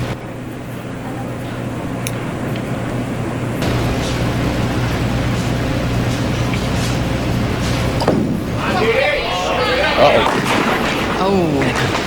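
A bowling ball rolls down the lane and strikes pins during a women's title match at the Las Cruces New Mexico Open, giving a building rumble and then a clattering crash of pins, with commentators talking over the match.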